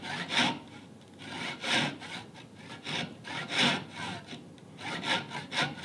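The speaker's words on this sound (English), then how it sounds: "in the last few strokes, lift the far side of the saw up, because you can't see that side" A hand saw cuts mahogany for a dovetail template, with steady back-and-forth strokes in a close, even rhythm of about seven rasping passes and no talking.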